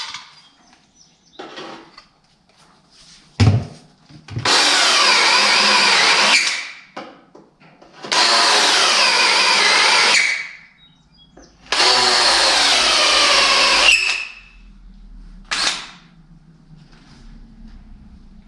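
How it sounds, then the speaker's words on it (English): Three sustained high whining bursts of a power drill turning a 5/8 reamer bit, each running a few seconds with pauses and light clunks between them, while working on the fuel system of a Cummins-swapped 1985 square body Chevy. "This is an amazing drill bit to have."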